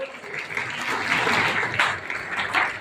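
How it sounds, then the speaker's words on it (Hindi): An audience at a Vishwakarma Puja event claps, a dense, continuous wash of applause from a gathered crowd, fairly loud and even throughout. "यार तालियां बजाओ।"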